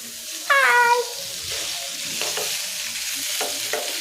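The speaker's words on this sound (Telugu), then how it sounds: "చూడండి ఇప్పుడు కలుపుకోవాలి." Food being stirred in a pan on the stove, with a few distinct scraping strokes over a low frying background and a brief high tonal cry near the start.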